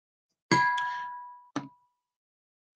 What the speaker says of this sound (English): I just hit my flask. That's what that was,